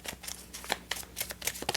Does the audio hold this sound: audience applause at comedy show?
no